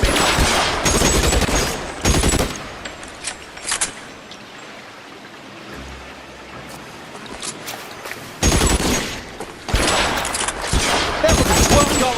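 Gunfire in the 1940s crime game L.A. Noire: loud bursts of shots come in clusters with a lull in between, mixed with a car engine and a shouted line of speech.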